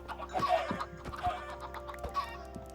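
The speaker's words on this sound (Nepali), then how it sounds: "यहाँ पनि रहेछन् कुखुराहरू।" Chickens in the Minecraft game give a run of short clucks at a steady pace, crisp and close over a faint game background hum, with no talk.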